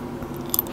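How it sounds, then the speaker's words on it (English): Ice cubes being chewed close to the mic for ASMR, a short burst of crunchy bites with sharp crackles near the end, fairly quiet overall. "I'll do some ice chewing ASMR."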